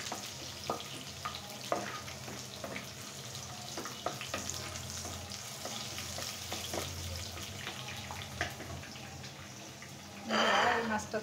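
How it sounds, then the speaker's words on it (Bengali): Onions fry in hot oil until golden, producing a continuous close sizzle with occasional clicks of a utensil, and a brief louder watery rush near the end. "পেঁয়াজটা খুব সুন্দর গোল্ডেন কালার হওয়া পর্যন্ত ভাজতে থাকবো"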